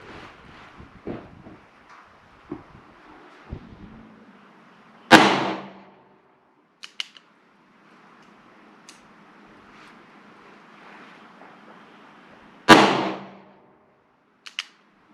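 Two sharp, loud gunshots from a .45 Model 3 Schofield revolver fired at an outdoor range, spaced several seconds apart, each ringing out and decaying, with faint background hiss and small clicks between shots.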